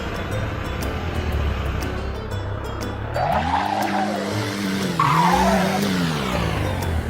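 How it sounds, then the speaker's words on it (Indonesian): A car spins out in the Roblox driving game CDID, its tires squealing in rising and falling arcs over a steady engine drone. The squeal repeats several times across the run, loud and close, with no talking. "Karena ini mobil maunya nge-spin mulu"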